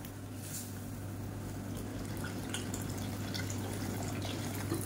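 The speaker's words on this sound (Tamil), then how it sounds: "இன்னும் கொஞ்சம் தண்ணி சேர்த்துக்கலாம்." Soft trickling and splashing of water poured into a pan of sambar during cooking, steady and low, with a faint hum underneath.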